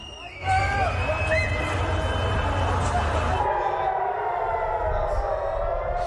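Civil defense air raid sirens wail during an Iranian missile attack on Israel, rising and falling tones sounding loud and steady over a low rumble and background crowd noise.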